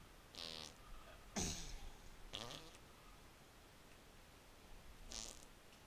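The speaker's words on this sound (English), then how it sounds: "Big farts." Four short, buzzy fart noises sound in a quiet room during a Goose Goose Duck game, each a brief raspy burst separated by a second or so of near silence.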